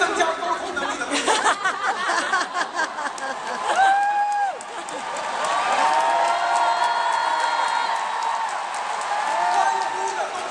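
A large convention-hall crowd cheers and whoops loudly and steadily for several seconds, with sustained high-pitched voices and scattered laughter carrying over a broad wash of noise.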